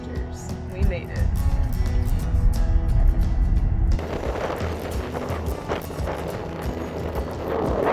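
Strong wind gusts roar and buffet the microphone outdoors in a hotel parking lot, loud and continuous with heavy low rumble throughout.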